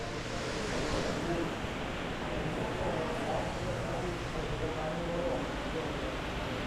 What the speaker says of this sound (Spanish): Tremenda lluvia que está cayendo ahora.